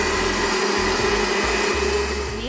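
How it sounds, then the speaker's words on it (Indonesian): An electric kitchen blender whirs through thick coconut milk for a cassava leaf stew, a loud, steady motor whine with a pulsing low churn throughout. "Dan kita blender."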